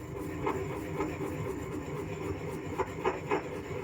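Kosher salt being ground fine for cookies makes a faint, repeated rasping scrape, with several distinct strokes toward the end.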